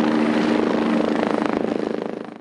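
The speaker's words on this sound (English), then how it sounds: "Enter Starflight, Travis County's helicopter service" Starflight, Travis County's emergency medical helicopter, flies close overhead with a loud, rapid rotor chop that slowly fades as it passes.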